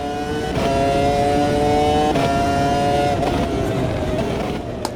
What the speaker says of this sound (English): Got those automatic upshifts happening.